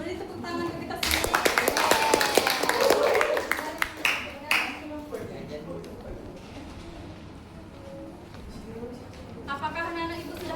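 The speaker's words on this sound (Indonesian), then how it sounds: "Boleh beri tepuk tangan ke kita semua." Classroom applause bursts out from children and their teacher, a few seconds of quick scattered clapping that rises sharply, then fades into quiet murmuring and talk.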